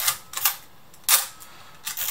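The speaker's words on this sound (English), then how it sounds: "The shutter is a cloth blind focal plane shutter," A few crisp mechanical clicks of a Praktica PL Nova 1 cloth focal-plane camera shutter, spaced apart, close and dry, with a faint hiss between them.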